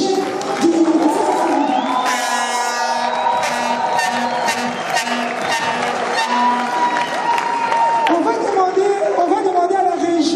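A large crowd cheers and applauds for the head of state, a dense, continuous roar mixed with whoops, with voices talking over it throughout.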